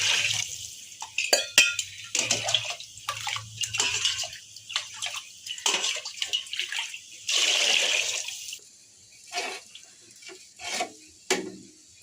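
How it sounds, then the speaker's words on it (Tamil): Water poured into a pot to cook rice, two measures of water per measure of rice, a sloshing, splashing pour that comes in bursts with brief pauses, close and fairly quiet, no talk. "இப்போ நம்ம போட்டுக்கலாம் தண்ணி."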